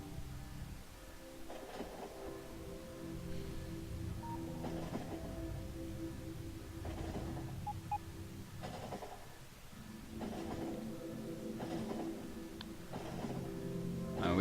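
A train rolls along the tracks in the Factorio video game, a steady low mechanical rumble with repeated swelling bursts of clatter every couple of seconds, moderately loud and continuous with no voices.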